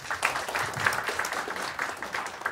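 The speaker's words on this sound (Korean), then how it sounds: "큰 박수 부탁드립니다." A seminar audience gives steady applause after a speaker is introduced, a moderate, even patter of many hands clapping throughout, heard at a slight distance in a hall.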